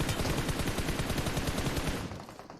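Rapid automatic gunfire in the BGMI battle royale mobile game sounds as a loud, dense burst of repeated shots that fades toward the end.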